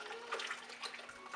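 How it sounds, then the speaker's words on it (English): Liquid malt extract pours into a homebrew kettle as a faint, steady splashing stream over a short stretch. "Now I'm adding the liquid malt."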